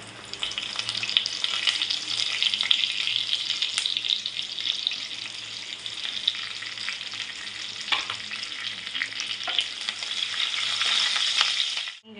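Curry leaves fry in hot oil with a loud, continuous crackling sizzle, with stirring scrapes throughout, holding steady until it stops abruptly at the end.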